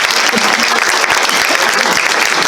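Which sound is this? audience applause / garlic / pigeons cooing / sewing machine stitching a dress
audience applause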